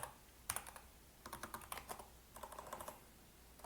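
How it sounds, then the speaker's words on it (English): Someone types on a computer keyboard while coding, close and crisp, with a single key burst followed by two quick runs of rapid clicking keystrokes and short pauses between, no talk. "I'm going to stop talking so I can just type."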